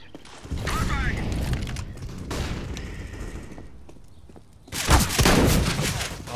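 Shotgun blasts in CS:GO, heard as heavy booming bursts with mechanical pump clatter, one early and one loud near the end, with some talk in between.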